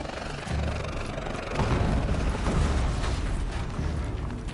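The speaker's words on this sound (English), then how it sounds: "An explosion." A rumbling explosion in the video game Horizon Zero Dawn during an attack, a broad roaring blast that swells and sustains for several seconds alone without talk.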